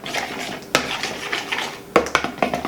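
A utensil mixing pizza sauce with garlic powder in a bowl, a few clinking knocks against the side amid soft wet stirring, close and brief.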